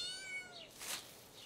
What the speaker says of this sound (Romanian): Marzipans are pisoi!